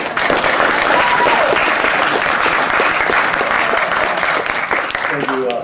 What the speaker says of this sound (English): Y'all please give him a big round of applause.